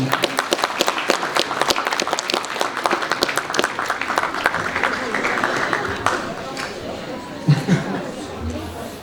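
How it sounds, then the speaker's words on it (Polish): Festival crowd at the Fajans Festiwal applauding an award winner on stage, a dense burst of many hands clapping that thins out after several seconds into scattered claps and murmuring chatter. "wielkie brawa dla niej"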